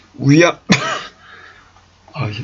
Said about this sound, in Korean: 자, 기침이 나와서 잠깐 멈췄었습니다.